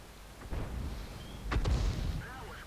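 Heavy low thump of a LeFH artillery gun firing in World of Tanks, a single booming shot with a second louder blast about a second later, mixed with game background noise.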